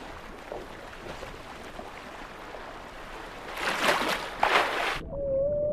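A whale calls underwater, using sound as sonar. Muffled, washing bursts of noise swell and fade, then give way to a single sustained tonal moan near the end.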